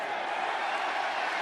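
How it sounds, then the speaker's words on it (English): Warm applause and crowd noise fill a college football stadium at a Texas Tech versus Arizona State game as an injured player gets up, a dense, even wash of distant clapping and cheering. "warm applause for him as he gets up and walking gingerly on that right leg"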